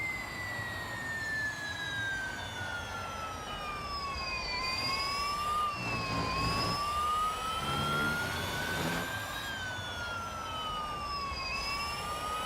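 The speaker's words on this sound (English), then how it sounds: "I'll tell you what is ugly, the noise of the car. I'm not a fan of electric engines at all." An electric race car in Real Racing 3 emits a high, whining motor tone that rises and falls with speed, continuous and moderately loud, with a brief rumbling passage in the middle.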